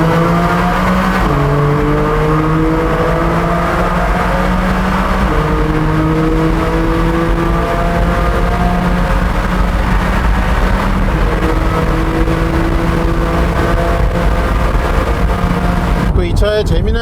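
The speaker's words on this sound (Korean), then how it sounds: "터널에 진입하면서부터 한번 좀 있는 힘껏 가속을 해 보겠습니다." Porsche 718 Boxster GTS 4.0 in Sport Plus mode accelerating flat out through a tunnel, its engine note climbing steadily through repeated upshifts, loud and close with echoing reverberation, while a voice talks over it.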